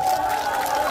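Audience at a Korean comedy show applauding and cheering, a brief dense wash of clapping and crowd noise filling the room without a break.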